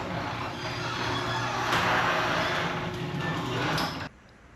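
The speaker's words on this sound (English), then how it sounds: "I just dropped the garage door just a little bit here." A garage door lowers with a continuous rumbling, rattling roll for about four seconds, then stops abruptly, leaving quiet room noise.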